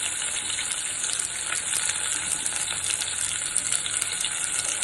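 Hot oil sizzles and crackles steadily in a frying pan with spattering pops, a dense continuous hiss close by with no talking.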